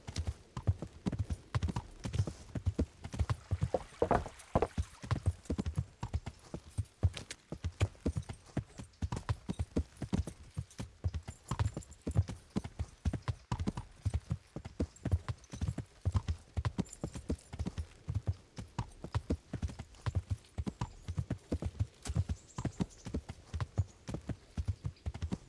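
Horse hooves clip-clop in a steady, brisk rhythm through a video game, loud and close, with occasional snorts and no voices over them.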